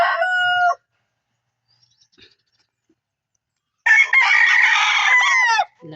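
Gamefowl rooster crowing loudly and close by, with a short crow, a pause of near silence, then a longer, fuller crow with some clucking mixed in.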